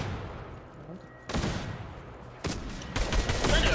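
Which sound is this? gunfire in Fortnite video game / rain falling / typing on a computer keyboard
gunfire in Fortnite video game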